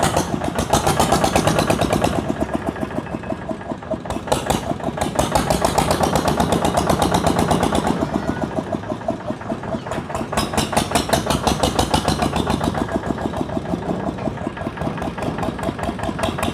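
The engine of a Thai e-taen farm utility vehicle runs steadily and loudly for the whole stretch, with a fast, even chugging pulse and slight swells in volume. No voices are heard.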